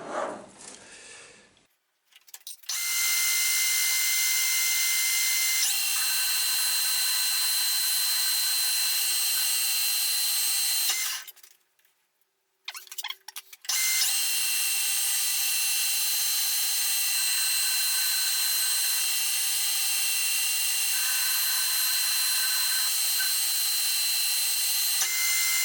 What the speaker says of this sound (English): I will give it a little touch of finishing tool.